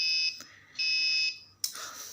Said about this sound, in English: so now the buzzer will come up.